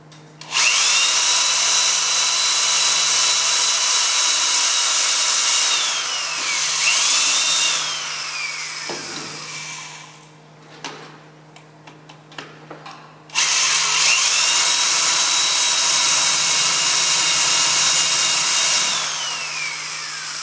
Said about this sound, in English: then I can drill the rest of these holes